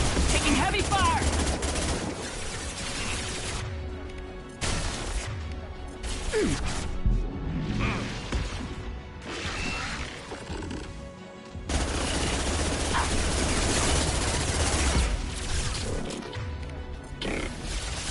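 Heavy gunfire in Mass Effect 2 rattles on in loud, close bursts with crashing impacts, pausing briefly now and then before surging back at full intensity.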